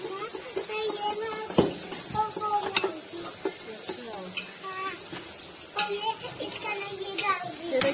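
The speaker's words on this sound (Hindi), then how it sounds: "ये लहसुन हमारा जो है ये फ्राई हो गया" Garlic frying in a pan until light golden while cooking pasta at home, a steady close sizzle with stirring clinks and pan scrapes, and a voice and other talk heard faintly in the background.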